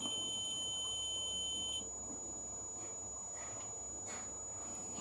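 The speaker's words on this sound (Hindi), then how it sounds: "अगर ये इस तरह का बीप आता है तो इसका मतलब है कि आपका जो कैपेसिटर है वो शॉर्ट हो चुका है।" A short-circuit warning beep from an e-rickshaw controller during testing, signalling a shorted capacitor: a steady, high electronic tone for almost two seconds that then cuts off, leaving faint background noise and a few soft clicks.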